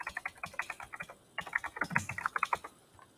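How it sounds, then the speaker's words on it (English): Typing on a computer keyboard to enter a name in a Lightroom export preset, a steady run of distinct clicky keystrokes heard alone and close up, with a short pause midway. "type in the assignment name there."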